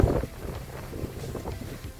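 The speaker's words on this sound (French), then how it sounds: "On a 20 nœuds de vent." Strong wind of about 20 knots buffets the microphone on a sailboat at sea in a low, rumbling roar, gusting unevenly, with faint water noise beneath.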